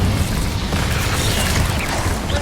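A Confringo spell explodes in the Hogwarts Legacy video game, a loud, rumbling blast with crackling bursts that fill the short moment without pause.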